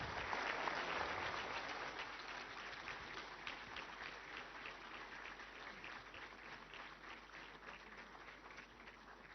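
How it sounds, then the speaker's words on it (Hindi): An audience applauds Prime Minister Narendra Modi at a seminar in New Delhi, a dense, continuous clapping that stays steady and slowly fades slightly across the whole stretch. "एक बार जोरदार तालियों के साथ माननीय प्रधानमंत्री श्री नरेंद्र मोदी का अभिवादन"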